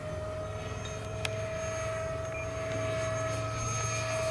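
An E-flite Habu SS 70mm electric ducted-fan RC jet flies at high throttle, giving a steady, loud, sustained whine and rush of the fan throughout, with a brief click near the middle and no talking.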